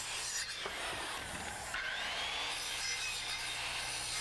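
Wooden stair stringer being cut with a saw, a continuous close, loud rasping roar without pause while the blade overcuts the marked lines.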